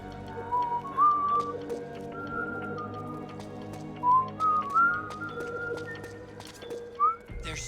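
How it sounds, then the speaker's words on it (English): Someone whistles a wavering tune in several short phrases over steady game background sound during a Metal Gear Solid 4 stream, the whistled notes rising and falling clearly above the ambient hum. "Do you hear whistling? Otacon, that's me whistling."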